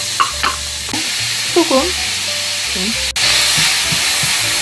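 Chopped onion sautés in olive oil in a frying pan, hissing steadily and close by, growing louder toward the end, as a person speaks briefly over it.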